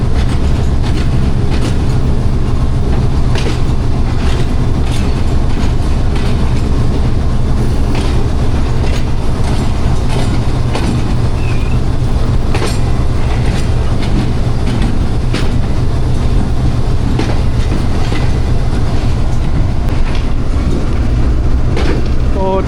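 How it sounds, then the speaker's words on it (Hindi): The Pak Business Express on the Karachi to Lahore run, arriving at Lahore Junction, rumbles and clatters loudly from on board, a continuous roar of wheels on rail with occasional sharper clicks and no speech over it. "अब पार्क बिज़नेस एक्सप्रेस को लाहौर जंक्शन के प्लेटफार्म नंबर 4 पे लिया जा रहा है"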